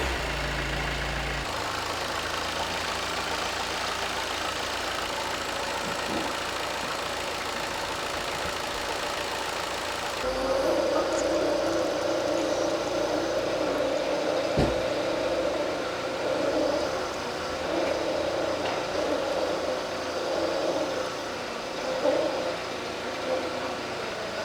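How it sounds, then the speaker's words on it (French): A car engine starts and settles into a steady idle, a low continuous hum after a brief start, heard alone nearby before an oil change on a vehicle with P1735 and P1736 fault codes. "maintenant on va démarrer le véhicule pour faire la substitution d'huile."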